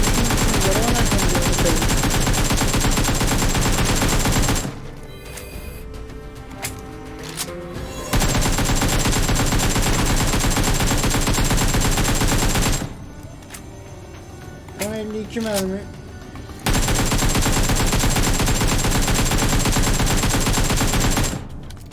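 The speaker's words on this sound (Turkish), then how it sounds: "Attın 12 mermi." Loud, dense gunfire in the mobile battle-royale game PUBG Mobile, coming in long sustained stretches broken by two quieter pauses in which voices and softer game sounds come through.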